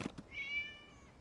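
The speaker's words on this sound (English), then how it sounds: "It was just a cat." A cat meows once in the video game Genshin Impact, a single drawn-out, fairly quiet mew rising into a sustained tone. No one speaks over it.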